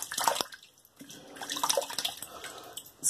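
A shaving brush is re-wetted under running water, giving close trickling and dripping with a few splashy bursts at the start and end, with no talking.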